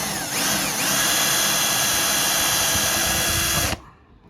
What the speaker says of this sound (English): We need to drill a little hole in order to put it on the circle cutting fixture